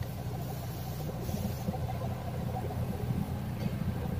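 A Toyota diesel engine in a Fortuner, Innova or Hilux idles with a steady, rough rumble, heard close and continuous with no talk.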